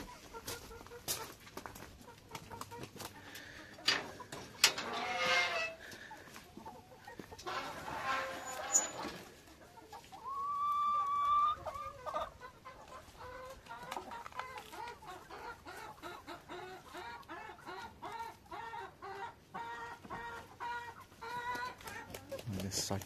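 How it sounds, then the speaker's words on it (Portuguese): Chickens cluck repeatedly on a rural smallholding, with busy overlapping calls near and far and occasional louder squawks, while someone speaks now and then over the flock. "Olha só que bonitas essas galinhas."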